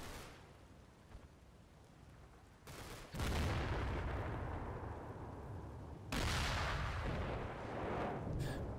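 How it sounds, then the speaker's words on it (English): Artillery and gunfire explosions on a Normandy battlefield in Combat Mission: Battle for Normandy: two sharp, heavy blasts a few seconds apart, each followed by a long rumbling tail, with distant crackle between. "Explosion from the other side."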